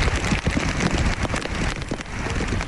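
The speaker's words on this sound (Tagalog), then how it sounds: "walang tigil na pag-ulan sa magdamag dito sa Baguio City" Heavy rain pours nonstop in Baguio City, a dense, loud, steady hiss of drops pattering on surfaces with no voices.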